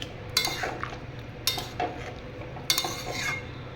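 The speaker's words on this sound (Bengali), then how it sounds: "দেওয়ার পর এটাকে একটু নেড়ে নাড়াচাড়া করে নেবেন" Vegetables for shukto are stirred in a pan, giving three scraping, clinking strokes of a utensil against metal spaced about a second apart over a faint background hum.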